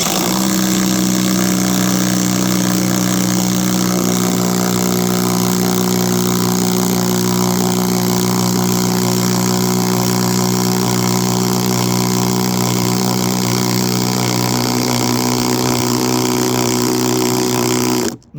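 A 20-volt impact driver driving screws, heard as a loud, continuous close mechanical whir with steady hammering buzz that shifts slightly in pitch near the end and stops abruptly.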